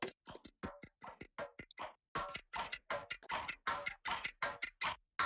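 A clock ticking sound effect for game music: a rapid run of harsh, distorted, filtered ticks in a steady rhythm, pausing briefly before resuming louder and brighter.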